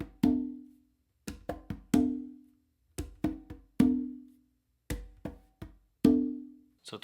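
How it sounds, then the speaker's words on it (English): Conga hand drumming: quick light fingertip taps, each followed by a ringing open tone, repeated in short clustered groups with brief pauses, close and dry. "I'm gonna do a fingertip tap with my dominant hand on the conga"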